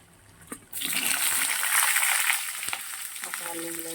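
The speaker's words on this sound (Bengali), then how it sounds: "তেলের মধ্যে দিয়ে দিচ্ছি লবঙ্গ আর দারচিনি গোটা" Whole cloves and cinnamon dropped into hot oil burst into a loud, steady sizzle after a brief clink, crackling and hissing continuously close by with no talk.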